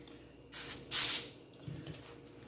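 Two short sprays of oil from a nozzle onto plastic wrap for bread dough, the second stronger and longer, hissing close by, followed by faint handling noises.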